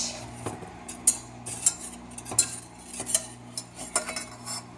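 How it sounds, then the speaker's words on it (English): A utensil clinks and scrapes against a pan while ingredients and honey are stirred. The short metallic taps repeat steadily about every half second, close and clear over a low background hum, with no talking. "And we will stir that."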